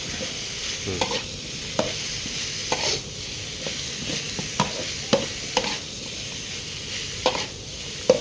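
Bamboo shoots stirred and tossed in a hot wok with a steady sizzle, punctuated by regular scraping clacks of a spatula against the pan.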